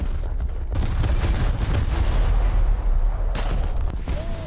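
Naval gunfire from a warship in a video game booms in a dense, continuous barrage of heavy, rumbling shots with sharp cracks on top, loud and close throughout.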